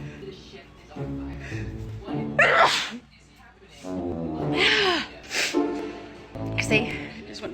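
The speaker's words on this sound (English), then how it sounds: "I'm sneezing so much my throat hurts." Several allergy sneezes burst out close and loud, one after another at irregular intervals, each a sharp explosive puff, with a person speaking between them.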